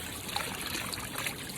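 A natural spring trickles steadily along a river-crossing trail, a soft continuous stream of running water heard close and alone, with no voices.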